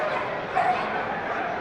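A dog yips and barks during an agility run, the barking blended with a busy crowd-like background and people talking over it, one slightly louder burst midway.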